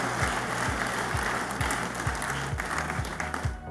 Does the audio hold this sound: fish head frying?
no